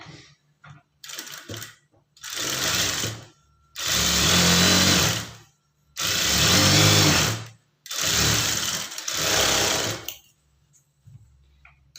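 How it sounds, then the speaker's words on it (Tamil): A sewing machine stitches a half-inch seam on a blouse in four or five rapid, loud runs separated by short pauses, each burst a steady whirring rattle close to the machine. "இப்போ அரை இன்ச் அளவுக்கு தையல் போட்டுக்குங்க"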